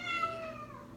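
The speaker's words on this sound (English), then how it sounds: "my cat is having a little bit of a freak out" A house cat meows in agitation, one long, strained, wavering cry close to the microphone that slowly falls in pitch, with no talking over it.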